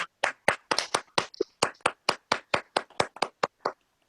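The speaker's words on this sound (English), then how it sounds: "give a round of applause to our 4 plucky" Toastmasters audience giving a round of applause for the speakers, heard as a sparse set of sharp individual hand claps in an irregular rhythm, close and clean with no talking.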